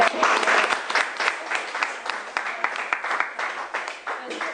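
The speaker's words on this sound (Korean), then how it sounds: "우리 전체 모두를 위해서 박수 한번 더 치고." A studio audience at a live broadcast talk show with a book author applauds in a sustained burst of clapping. It starts strong and gradually tapers, with a voice speaking over it.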